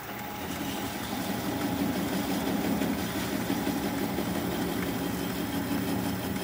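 A wood lathe spins a bowl blank at about 400 RPM, giving a steady, continuous motor hum with a low rumbling drone at even loudness throughout, with no voices.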